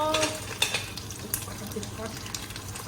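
Fish pieces for a home-style fish curry are turned over in a frying pan, with soft scraping and clinks of a utensil against the pan over a low steady sizzle, close and fairly quiet.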